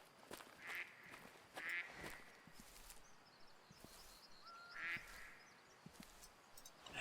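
Ducks in the hunting game Way of the Hunter, on the Aurora Shores coast, give a few scattered nasal quacks at a moderate distance over quiet ambient outdoor background.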